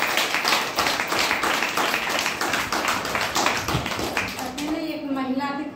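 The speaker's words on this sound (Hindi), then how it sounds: "जोरदार ताली हो" Audience at a DXN gathering in Gopiganj applauds presenters, a dense, steady wash of many hands clapping close and loud, with voices mixed in and a brief tonal sound near the end.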